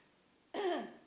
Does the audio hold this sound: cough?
yes